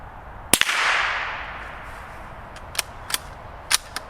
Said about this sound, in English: You still get a little bit of a pop from that round, but it's not bad at all.